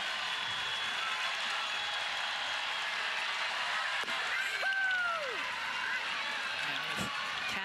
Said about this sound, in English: here comes the home crowd